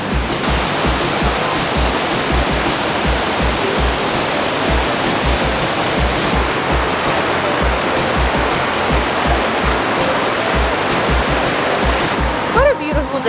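Thawed waterfall flowing again after being frozen, a steady loud broadband rush of falling water filling the whole scene on a bright day outdoors, constant throughout with a rhythmic low thumping underneath, and a brief voice near the end.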